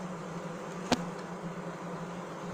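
Honeybees buzz steadily around hive frames during a hive inspection, a continuous close hum with one sharp click partway through.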